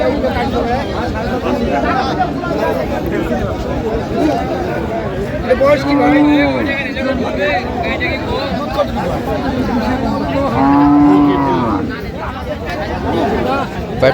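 Cows and calves at the Aftabganj cattle market, with two drawn-out moos rising around the middle and near the end over constant crowd chatter and bargaining voices.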